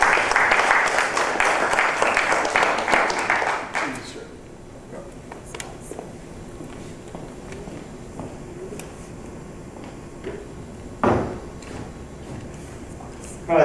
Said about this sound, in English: Another round of applause for Dr. Williamson.